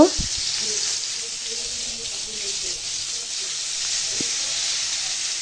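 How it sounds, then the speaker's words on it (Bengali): Pangas fish pieces frying in oil in a pan, a steady broad sizzle and hiss holding throughout after a brief clatter at the start, with no talk. "এই যে মাছগুলো এক একটা করে ভেজে নিব"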